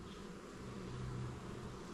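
Honeybees in a hive colony hum in a steady, close, continuous drone, moderately quiet and unbroken, with no voices present.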